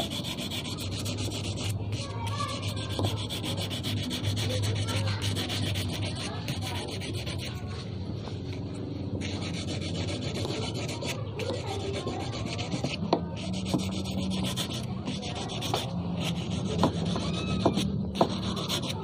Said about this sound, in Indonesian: Sekarang kita gunakan amplas supaya kelihatannya rapih ya.